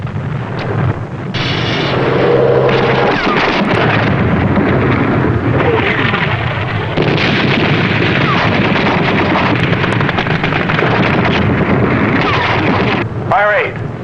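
Submarine torpedo launches and explosions in a World War II submarine battle, booming continuously and loudly through wind-like rumble, with voices speaking commands over the noise.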